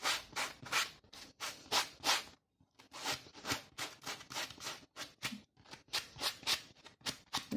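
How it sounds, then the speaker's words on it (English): Repeated rough scraping strokes of sandpaper on a soft foam squishy toy, steady back-and-forth rhythm with brief pauses, close and fairly loud. "you want to start by sanding your squishy"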